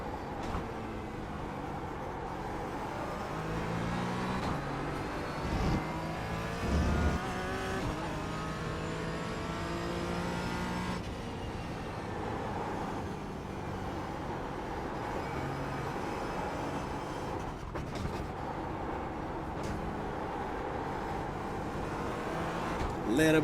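GT4 race car engine in a VR racing game, rising and falling revs through gear changes and corners, continuous and fairly loud, with someone talking over it.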